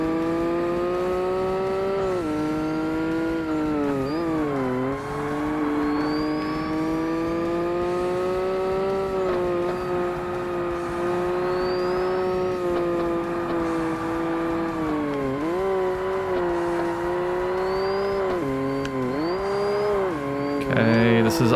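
Race car engine in Forza Motorsport on Xbox, 2005, during a point-to-point club event: a loud, sustained engine whine holding high revs, dipping briefly on gear shifts and climbing again, dominating throughout.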